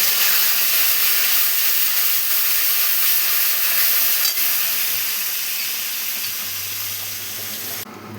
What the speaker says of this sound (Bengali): ফোড়নটা দিয়ে দিলাম একটু তেল দিয়ে, যেই কড়াইটাতে এঁচোড়গুলো ভেজে তুলেছিলাম।